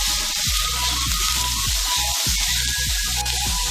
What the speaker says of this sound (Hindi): इसको भी हम 1 मिनट फ्राई करेंगे